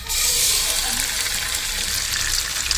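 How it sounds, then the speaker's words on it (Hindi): French toast frying in a pan gives a steady, close sizzle of bubbling oil that carries on without a break from start to finish. "ये मैं अपने लिए फ्राई करूँगी।"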